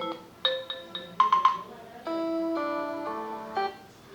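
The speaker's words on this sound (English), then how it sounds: "these are only system tone" A system ringtone on a OnePlus Nord CE2 Lite 5G phone, a short run of bright electronic tones, first quick plucked notes and then longer sustained chords, played clearly at close range with no talk.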